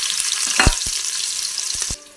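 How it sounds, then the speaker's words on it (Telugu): Onions and whole spices frying in hot oil for a mutton curry give a loud, steady sizzle broken by a few sharp stirring scrapes and clicks, then the hiss cuts off abruptly near the end. "ఇవన్నీ మసాలాలు వేగినాక ఉల్లిపాయలు వేసుకోవాలి."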